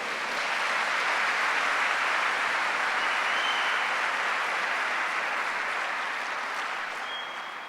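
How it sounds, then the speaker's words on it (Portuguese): A church congregation applauds during a Sunday service, a sustained, even roar of many clapping hands heard from a distance, steady throughout and fading slightly at the end. "dê um aplauso a Jesus"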